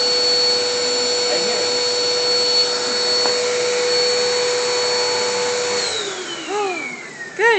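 A one-year-old child runs an upright vacuum cleaner across a living room floor, a loud, steady whining hum that holds evenly and then winds down in pitch as the motor shuts off, with a brief voice near the end.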